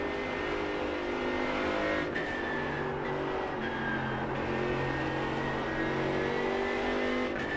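Mercedes AMG GT3 race car in iRacing at Suzuka, its engine droning and revving through shifting tones, with brief gear-change dips and steady sustained power, heard alone without talk.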